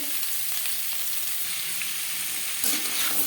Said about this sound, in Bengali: পেঁপের সাথে ডাঁটা বেশ ভালো করে মিক্স করে দেবো।